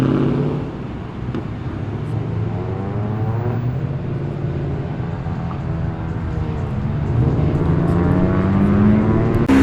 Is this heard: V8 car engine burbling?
yes